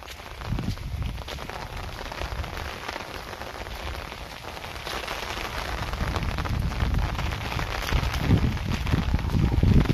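Steady heavy rain pours down outdoors on a forested area with small huts, a dense continuous hiss of drops on surfaces that grows slightly louder toward the end, with no voices.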